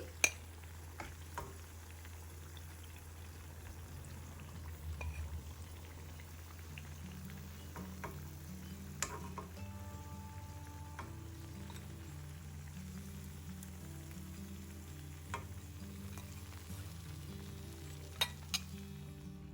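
Wheat flour sweet fritters (boorelu) frying in oil, a faint steady bubbling hiss with occasional sharp pops and clicks, heard alone at low volume.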